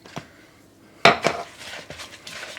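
Jerky meat mixed with Worcestershire sauce in a bowl gives clattering knocks of a utensil against the dish, with one loud clank and then quieter wet scrapes and taps.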